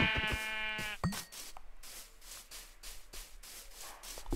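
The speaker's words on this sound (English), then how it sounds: "Oh, sheep." Sheep bleating in the Minecraft video game, a clear wavering bleat near the start followed by a short second call, then quieter background game sounds.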